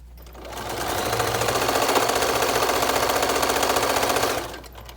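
A sewing machine stitching a fabric face mask with ties runs in a steady, rapid mechanical rattle for about four seconds, close and loud, then winds down and stops.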